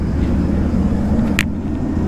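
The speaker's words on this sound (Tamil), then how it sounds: "அங்கே ஒரு லாரி போகுது இல்லைங்க" A lorry rolls past on a road at night, a steady low engine rumble and tyre drone holding close and loud throughout with no talking.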